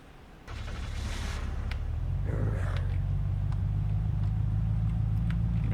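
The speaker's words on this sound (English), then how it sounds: "I cannot wait to immediately crash this dirt bike because I've never actually, like, driven one of these in-game." A dirt bike engine in the game Unturned starts up and settles into a steady, loud, continuous drone, holding a constant hum with no talking over it.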